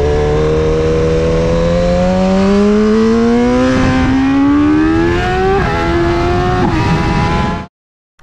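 BMW S1000RR superbike accelerating hard on a race circuit, engine pitch climbing steadily through a long loud pull with brief shift dips near the end before cutting off abruptly.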